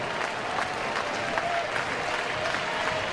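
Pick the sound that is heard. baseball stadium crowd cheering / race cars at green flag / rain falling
baseball stadium crowd cheering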